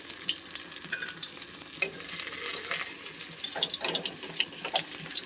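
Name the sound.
fish frying in a pan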